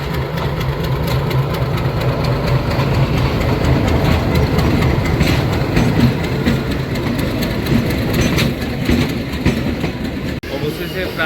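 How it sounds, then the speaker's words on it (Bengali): The Puri-Sealdah Duronto Express pulls away from the outer signal near Sealdah station, its engine and rolling carriages producing a steady, loud low rumble with rattling wheels and clatter, heard from inside the train. "আমাদের ট্রেন এখন শিয়ালদার আউটার থেকে ছেড়ে এখন শিয়ালদা স্টেশনের উদ্দেশ্যে রওনা দিল"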